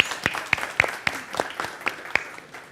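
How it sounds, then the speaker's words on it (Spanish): Applause from a conference audience sending off panelists, heard as sparse, quiet clapping with distinct separate claps spaced out in an uneven rhythm, thin rather than a full ovation. "merecen un gran aplauso de despedida a cada uno de ellos"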